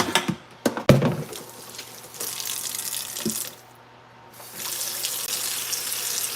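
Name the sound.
water running into a sink to soak dishes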